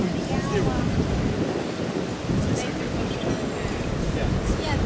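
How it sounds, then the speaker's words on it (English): Wind roars and buffets the microphone while riding in a Toyota Coaster bus in Dakar, Senegal, a loud, continuous rush with low rumble throughout. "if you can hear the wind, just imagine how we're feeling the wind"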